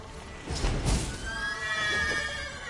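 A panicked horse in the video game The Witcher 3 lets out one loud, shrill whinny that rises and wavers over a few muffled hoof thuds, with no voices.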